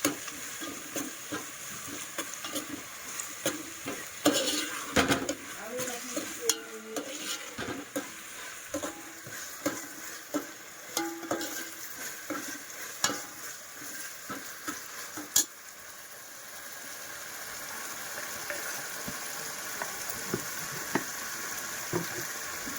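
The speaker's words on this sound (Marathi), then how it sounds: "आलं लसूण पेस्ट जरा मिक्स करायचं" Ginger garlic paste is stirred in a hot pan, with a quiet continuous sizzle broken by repeated scraping stirs and clinks of a spoon against the pan, no talking.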